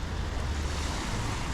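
Sea waves wash continuously against a stony Albanian shore with many boats about, heard as a dense, even surf roar mixed with wind buffeting the microphone.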